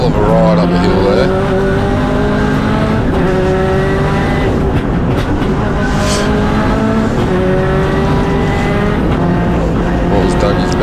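A race car climbs a hillclimb course at a Legend of the Lakes event, its engine droning steadily with rising and falling revs throughout, loud and continuous, with a commentator talking over it.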